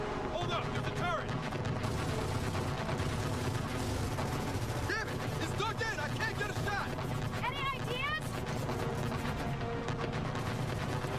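Sustained automatic turret fire in Gears of War 4, a dense continuous rattle of shots over rumbling game noise, with people talking excitedly throughout.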